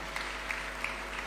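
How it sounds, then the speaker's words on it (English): Audience applause fills a hall at an Africa fertilizer summit as Zimbabwe's president approaches the stage, a steady, moderately loud wash of clapping with a few sharper claps standing out. "We can give him a warm clap as he's approaching the stage."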